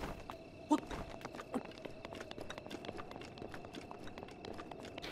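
Horses gallop in The Legend of Zelda: Breath of the Wild, with a faint, steady run of quick hoofbeats under quiet game ambience and a couple of sharper knocks.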